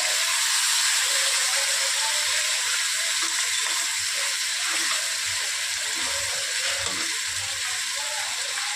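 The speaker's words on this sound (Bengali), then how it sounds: "দেখো পুরো তেলটা গরম হয়ে গেছে, এবার এই মাছগুলো" Fish fry in hot oil with a loud, dense, continuous hiss and crackle that stays close and steady throughout.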